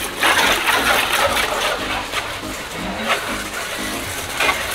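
A pressure washer cleaning a motorcycle sprays steadily in a loud, continuous hiss, with a motor humming underneath and the pitch shifting slightly as the spray moves.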